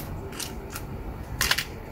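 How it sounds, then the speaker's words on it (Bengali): A SIM tray comes out of a Vivo Y20i phone during a screen repair, heard as a few faint, short plastic clicks close by over quiet room noise. "এবার সিম ট্রেটা রিমুভ করে নেব।"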